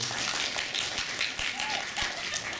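A convention panel audience at a retro gaming expo claps in a dense, steady patter that fills the room, with some talk underneath.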